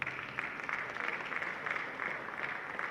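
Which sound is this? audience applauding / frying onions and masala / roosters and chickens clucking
audience applauding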